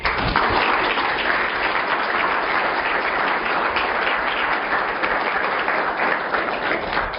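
Seminar audience at a Dartmouth engineering talk applauds steadily to welcome a biomagnetism speaker, dense sustained clapping from a room full of people, loud and unbroken throughout.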